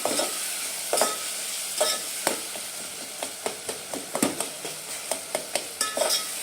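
A spatula repeatedly scrapes and taps through a sizzling bhajji mixture with tomatoes in a pan, making a rhythmic series of close, sharp strokes over a constant frying hiss, with no voices.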